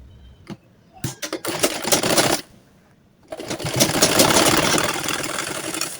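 A sewing machine stitches a burqa in two bursts of rapid, rattling mechanical clatter, the first short and broken with brief taps, the second longer and steady, separated by a quiet pause.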